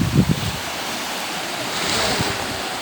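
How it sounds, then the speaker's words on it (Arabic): Sea waves wash onto the beach at San Felice, a soft, continuous surf rush mixed with gusting wind buffeting the microphone, with a brief thump near the start and no talking. "هو هذا البحر زوين."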